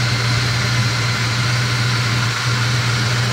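A 1975 Chevy C10 pickup with its original 350 V8 and 350 Turbo transmission idles steadily, a low constant rumble with a strong hum and no speech.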